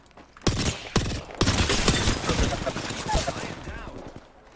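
Rapid bursts of gunfire in a video game, sharp repeated shots clustered at the start and then dense, sustained firing, with players talking over the action.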